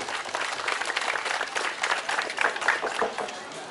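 A crowd applauds loudly and steadily at a drumblek anniversary event, with dense clapping that fills the short stretch and no pause.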